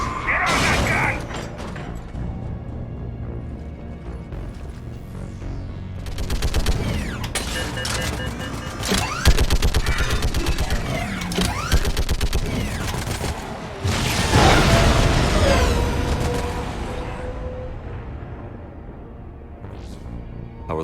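Mounted gun fire against hostiles in the video game Mass Effect, heard as busy bursts of shots, mechanical clatter and booms during a perimeter firefight, loudest in the middle and again near the end.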